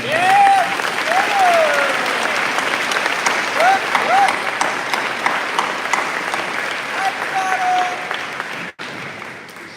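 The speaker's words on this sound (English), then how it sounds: "would you please stand so we can recognize you and give you a round of applause?" A graduation ceremony crowd for the Minford Class of 2024 applauds the teachers with loud, continuous clapping. Rising whoops and cheers cut through the clapping now and then, and one sharp knock is heard near the end.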